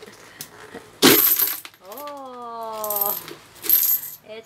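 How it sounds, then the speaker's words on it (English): Coins spill out of an opened alkansya coin bank in a sudden loud clattering burst, followed by metallic ringing tones and more jingling, with a voice briefly heard nearby. "We need to open the Alkansya."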